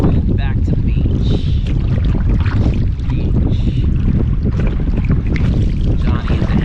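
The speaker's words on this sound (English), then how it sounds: "Now paddling across wind back to the beach." A kayak is paddled across the wind on a winter outing back toward a beach, with heavy wind buffeting the microphone and water sloshing and splashing loudly and steadily throughout.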